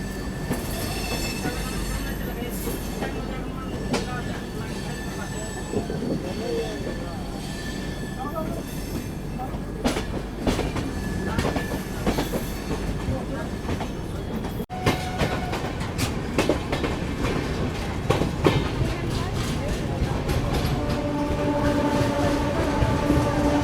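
The Raxaul Sadbhawna Express rolls along the line toward Raxaul via Motihari in Bihar, with a steady rumble, wheel clatter and squeal. The sound is heard from on board and continues throughout.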